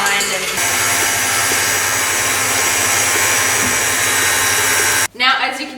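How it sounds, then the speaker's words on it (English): An electric mixer beats cookie batter for Nutella-filled cookies on high speed, giving a loud, steady whirring drone for about five seconds before it cuts off abruptly and a voice begins speaking. "we're going to mix again on high speed"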